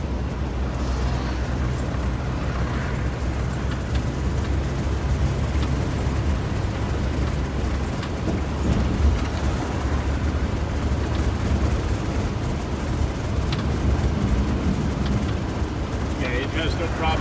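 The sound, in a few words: car driving smoothly underway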